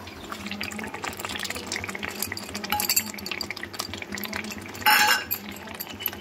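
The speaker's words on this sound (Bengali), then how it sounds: "এখানে দেখো আমার ভালো মতো ফুটতে শুরু করেছে" Coriander leaf pickle bubbling in a pot as tamarind powder is stirred in: a close, continuous wet bubbling and churning with scattered clinks of utensil on metal and one brief louder splash near the end.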